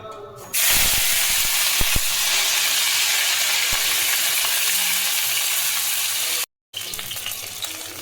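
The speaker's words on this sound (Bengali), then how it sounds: "সবজিগুলো হালকা করে ভেজে নেবো সব" Broccoli, beans, potato, carrot and pumpkin fry lightly in a pan for sago and vegetable khichdi, a loud, dense, continuous sizzle bursting in after a quiet start, with a few knocks, a brief drop-out near the end, no voices.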